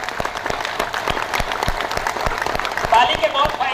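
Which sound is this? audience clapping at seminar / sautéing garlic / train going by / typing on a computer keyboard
audience clapping at seminar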